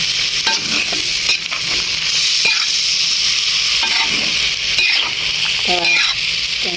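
Cucumber, egg and pork belly stir-fried in a pan give a steady, loud sizzle and frying hiss throughout, with repeated scraping of a spatula against the pan and occasional light clinks. Nobody speaks.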